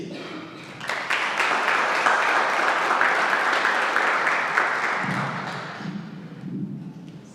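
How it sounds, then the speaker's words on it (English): An audience at a summit breaks into loud, sustained applause that swells after a second, holds steady and fades out, with some thumping underneath as it dies down. "With a round of applause, let's invite"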